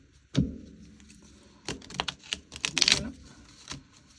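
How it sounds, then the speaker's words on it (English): Thin, fairly new moon oracle cards being shuffled by hand, giving a sharp riffle at the start followed by a cluster of soft papery flutters and taps, close and moderately quiet with no talking. "That was a really bad shuffle."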